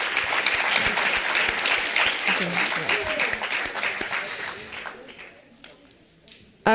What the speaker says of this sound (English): Let's give all of our panelists a round of applause